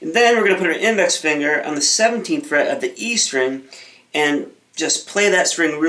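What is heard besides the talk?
No everyday noises stand out.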